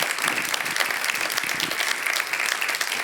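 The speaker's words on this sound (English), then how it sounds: "So a warm clap of hands again for our phenomenal moderator." Audience applause for a moderator at a closing session of the EAT Stockholm Food Forum, a steady, dense clapping from a large crowd that fills the whole stretch without pause.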